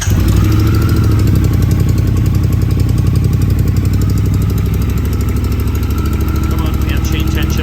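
A motorcycle engine runs at a loud, steady, close idle with a rapid even pulse, plus a faint rattle from a hydraulically adjusted chain tensioner.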